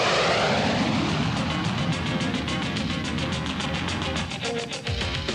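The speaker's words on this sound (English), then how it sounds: "The F-18, our frontline fighter for the next 20 years." An F-18 fighter jet roars loud and steady throughout, a broad continuous engine rumble with a rhythmic pulsing texture.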